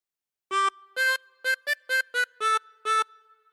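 A harmonica plays a short melodic phrase from We Wish You a Merry Christmas, eight reedy notes, several quick and clipped, others held a bit longer, clear and close with no talking.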